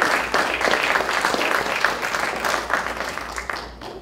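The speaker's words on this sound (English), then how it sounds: "Give her a round of applause." An audience at a youth sports awards ceremony claps steadily and enthusiastically for several seconds, the applause fading slightly toward the end.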